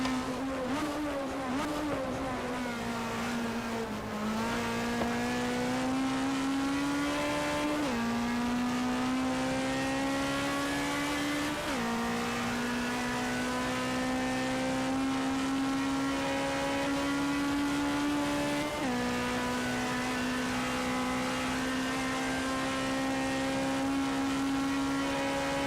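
A Simca race car engine at Rouen-Les-Essarts in a racing video game drones steadily at high revs, with several upshifts marked by brief drops in pitch before climbing again, continuous and loud with no talk.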